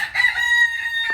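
A rooster kept in a coop behind a house gives a single loud, close crow lasting about a second, with no talking.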